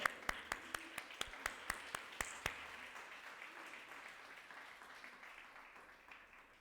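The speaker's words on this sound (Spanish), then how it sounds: "Dele un aplauso al Señor" In a church, the congregation claps in a quick even rhythm, about ten sharp claps, before the sound fades into a faint room murmur.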